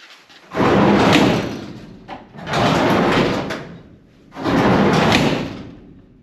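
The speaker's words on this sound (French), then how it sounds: "J'ai jamais eu une porte d'estaffe qui coulissait aussi bien." Sliding side door of a Renault Estafette van rolled along its track three times in a row, each a loud rumbling slide lasting over a second, separated by short quiet gaps.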